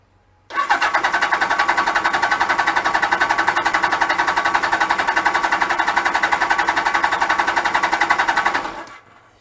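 A Suzuki GS1000 motorcycle engine cranks on the starter at full throttle during a compression test, a fast, even chugging pulse held for about eight seconds, loud and close, then stopping abruptly.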